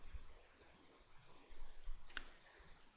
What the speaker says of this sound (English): Let's make the front the active piece by clicking on it with our left mouse button